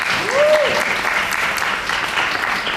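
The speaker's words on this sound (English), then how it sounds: "So you can applaud for that, please. For all mothers." An audience at a musical press conference applauds steadily throughout, a dense, even patter of many hands with a brief tonal whoop or whistle rising over it early on.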